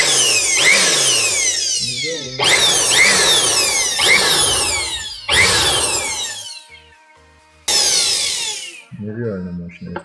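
A DEKO DKBL600 electric air blower switches on in several loud bursts, its motor whine surging up and spinning down between short gaps, with a brief voice near the end.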